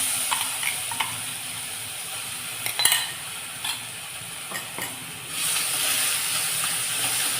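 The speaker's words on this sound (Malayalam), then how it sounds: "നന്നായി ഇളക്കി കൊടുക്കുക." Jackfruit seed stir-fry with crushed spice mix sizzling on a low flame in a pan, a steady close hiss broken by a few scraping stirs, the frying swelling louder toward the end.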